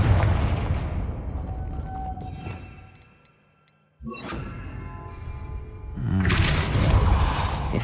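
A Confringo spell blast in the video game Hogwarts Legacy: a loud booming explosion that rumbles and fades to near silence, followed by a second burst of fiery crackling and a renewed roar.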